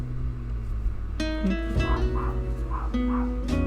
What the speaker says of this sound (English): you can hear the dog in the background?